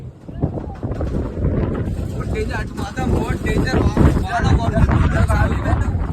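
Strong wind roars and buffets the microphone in a continuous rumble at an outdoor cricket match, with people talking underneath.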